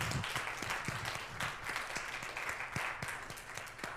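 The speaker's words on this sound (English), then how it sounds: "So let's give them a really wild round of applause." Church congregation applause during a Sunday service, quiet and distant, with scattered sharper individual claps standing out over a soft wash of hands.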